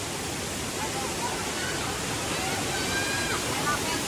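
Waterfall at Jumog in Indonesia, set between hills, a dense, steady roar of falling water filling the whole clip at constant loudness.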